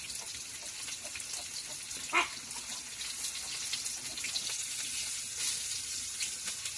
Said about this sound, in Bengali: আমরা একটু হালকা ভাজা ভাজা করে হলদি মরিচ দেওয়া হবে।